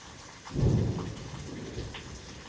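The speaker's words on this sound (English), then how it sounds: "here comes some thunder" Thunder during a rainstorm rolls in as one deep, swelling rumble that slowly fades, over steady soft rain hiss, with no voices.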